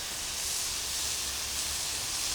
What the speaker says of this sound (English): Now it's going to start cooking that meat even more, some of that steam from the fat.